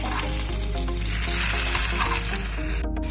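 Eggplant slices and egg fry on a tawa over a medium flame, a steady close sizzle with faint scraping, ending in a brief drop near the end; no one talks.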